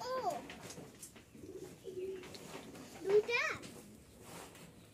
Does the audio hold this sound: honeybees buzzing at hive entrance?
no